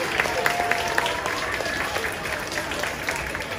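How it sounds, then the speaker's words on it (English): Audience applauding third grade teachers at a school musical, a steady wash of clapping from a crowd held at an even level, with a voice talking faintly underneath. "huge round of applause for them as well."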